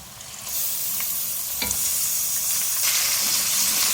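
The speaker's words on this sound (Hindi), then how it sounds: "कीमा डाल के इसकी भुनाई करूँगी।" Hand-pounded beef mince hits onions already fried golden in a pan and sets off a loud, steady sizzle that carries on with occasional stirring scrapes and no voices.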